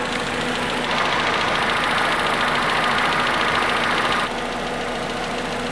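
A Renault Twingo engine idles with a steady, close mechanical drone, then the noise drops noticeably near the end, as if the engine is cut off or quietened. No voices are heard.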